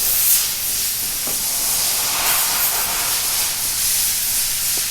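Lubricant sprays in a continuous close, loud hiss onto the water pump and thermostat housing of a 2008 BMW 335, lasting nearly five seconds.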